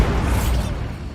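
Bombarda blasting spell explosion in the Hogwarts Legacy video game, a single loud, deep booming burst that fades over about a second.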